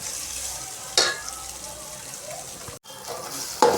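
Chilli powder and spices sautéing in a pan for a Tamil-style fish curry, a steady close sizzle with scraping stirs, one brief dropout near the end, and no talking.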